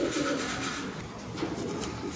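A released bird after feeding gives soft, repeated dove-like cooing close by over low background noise.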